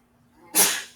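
A single sharp sneeze bursts out close by after near silence, then trails off quickly.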